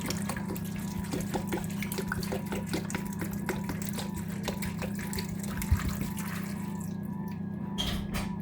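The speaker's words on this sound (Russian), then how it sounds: "Залью водой." Tap water pours steadily into a pot of fried meat and potatoes, a continuous close splashing stream with a faint low hum beneath it, easing off near the end.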